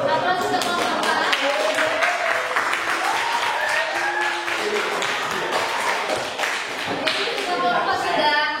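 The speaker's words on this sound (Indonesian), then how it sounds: "Aplaus untuk kelompok A." Applause from a classroom audience after a student group finishes its chemistry presentation, steady clapping sustained for several seconds with some voices mixed in.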